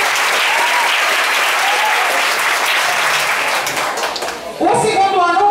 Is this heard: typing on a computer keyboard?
no